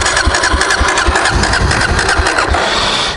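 A carbureted Suzuki DRZ400S motorcycle engine cranking and catching, loud and close, with a steady rough mid-pitched running note that continues throughout.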